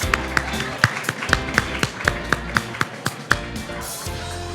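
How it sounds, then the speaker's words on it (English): Steady, evenly spaced claps ring out in a regular beat, fairly close and sharp, over a faint background murmur. "All right, let's get some clapping."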